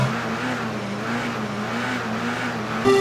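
Vauxhall touring car engines in the TOCA Touring Car video game roar steadily at a race start, a sustained loud drone with a pitch that wavers slightly, then a brief sharper burst near the end.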